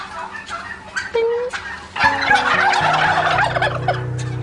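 Several white turkeys gobble in rapid, overlapping bursts on a farm, loud and close, with clucking fowl mixed in.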